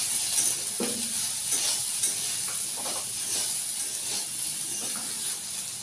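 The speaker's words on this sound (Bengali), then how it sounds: "এইভাবে ঢাকা দিয়ে ভেজে নেবেন, তাহলে তেলটা কম লাগবে" Soybean chunks fry in oil in a covered pan, giving a steady close hiss and sizzle with faint scraping movements now and then, continuous and even throughout.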